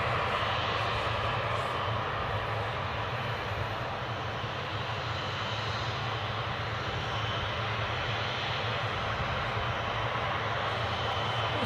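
A Loganair airliner arrives at Newcastle airport, its engine roar loud and continuous throughout, a broad steady rumble with no break.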